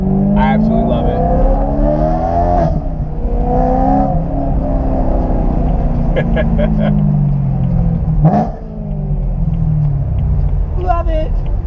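Chevrolet Corvette C6 ZR1 engine under way, a steady rumble with rising and falling rev sweeps as the car accelerates and shifts, heard from inside the cabin with a voice talking over it.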